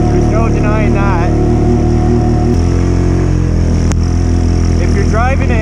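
An automatic Honda Rubicon ATV churns through deep snow. Its engine gives a steady, loud drone throughout, and someone talks over it.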